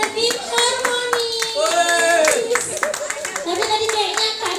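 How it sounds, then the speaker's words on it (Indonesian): Audience clapping for a team's performance at a group creative event, steady hand claps running through the whole stretch with voices and chatter mixed over them. "tepuk tangan lagi untuk penampilan tim Harmoni."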